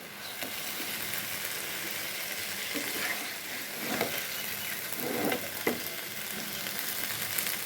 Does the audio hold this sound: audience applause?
no